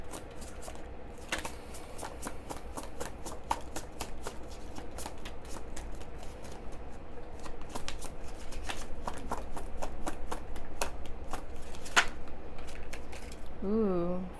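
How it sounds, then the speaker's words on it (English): Higher Self Oracle cards being shuffled by hand, a continuous close riffle of papery flicks and slaps lasting over ten seconds, with a faint voice near the end. "I'm going to pull some cards from the Higher Self Oracle and see what pops up here"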